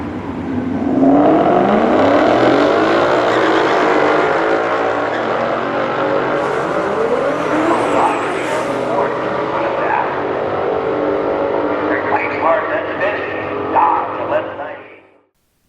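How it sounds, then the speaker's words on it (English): A Dodge Challenger with the 6.4-liter 392 Hemi V8 accelerates hard, heard from inside the cabin: a loud, sustained engine roar climbs steadily in pitch through the gears, then cuts off abruptly at the end. "In-car acceleration footage wasn't easy to find for this model"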